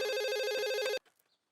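A telephone rings in a car garage, a loud, rapid electronic warbling trill that lasts about a second and then cuts off abruptly, leaving near silence.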